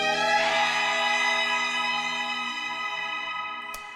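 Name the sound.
cheesy old-timey string sample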